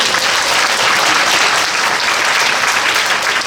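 An auditorium audience at a Seongju, Goryeong and Chilgok education forum claps for the education superintendent, a loud, dense burst of applause sustained evenly without talk.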